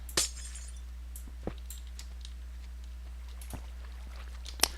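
Glass blocks breaking in a Minecraft-style survival game, several short, sharp shattering crunches spaced apart over a quiet background, the last one loudest.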